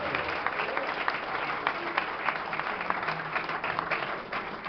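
Church congregation applauding together, a continuous dense clapping from a large crowd that stays steady throughout, with faint voices blended underneath.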